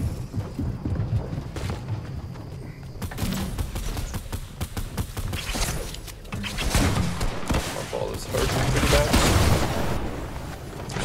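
Gunfire and building hits during a Fortnite tournament duos semi-final, arriving as a dense run of sharp repeated cracks and thumps. The shots grow louder toward the end over a steady game backdrop.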